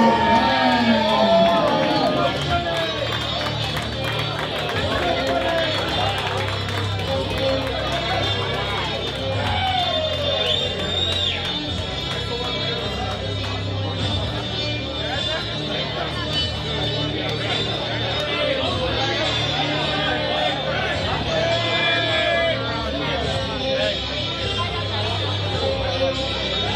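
A crowd at a fight league event cheers and yells continuously as a fighter is brought out, a dense roar of voices with shouts rising and falling, while an announcer speaks over the hubbub.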